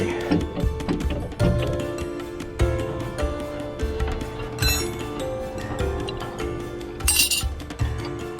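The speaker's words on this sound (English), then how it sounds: "I have a crescent and a big wrench." A crescent wrench and a big wrench clink and clatter with metallic taps and ratcheting while a toy hauler's weight distribution hitch is readjusted, repeated close knocks throughout with a bright jangle near the end.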